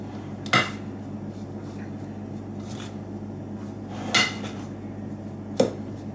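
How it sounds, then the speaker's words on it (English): A metal spoon mixes sugar, lemon zest and raisins in a bowl for rock cakes, producing three sharp clinks against the bowl spaced several seconds apart, with soft rubbing between them and no talking. "Just use a metal spoon just to mix all of that in so that all the sugar and the zest is well combined with the raisins"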